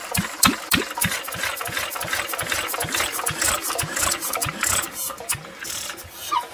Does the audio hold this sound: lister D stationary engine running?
yes